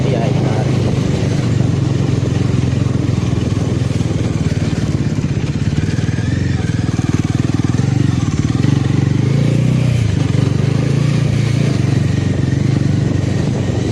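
A KTM 390 motorcycle engine drones steadily while riding, with wind rush and occasional throttle changes, and a rider talks over it at times.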